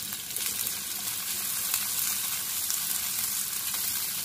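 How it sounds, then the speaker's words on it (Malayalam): Chopped onions hit hot oil in a pan, giving a steady, close hiss of frying that holds evenly throughout with no voices. "എണ്ണ നന്നായി ചൂടായി, നമുക്കതിലേക്ക് അരിഞ്ഞു വെച്ച ഉള്ളി ഇട്ട് കൊടുക്കാം."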